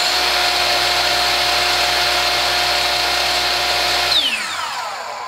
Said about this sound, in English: This is the Hitachi compound saw.